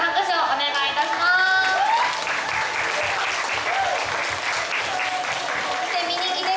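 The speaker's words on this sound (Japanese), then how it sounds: "大きな拍手をお願いいたします" Audience applause at the end of a Korean-themed afternoon party performance, loud and sustained for several seconds in a full crowd, with people talking and calling out over the clapping.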